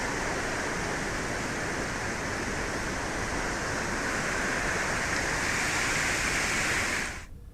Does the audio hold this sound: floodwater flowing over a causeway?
yes